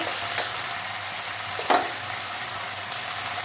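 Spices fried with onion, ginger and garlic in mustard oil sizzle steadily up close, with a couple of sharper clatters from a spoon stirring the pan, and nobody talks.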